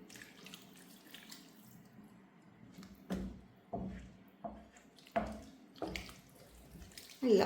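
Water poured from a tap or container into a pot of green beans being cooked, a steady close splashing stream broken by several sharp clunks and knocks of the pot, with no talking.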